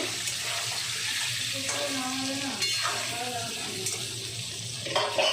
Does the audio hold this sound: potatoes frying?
yes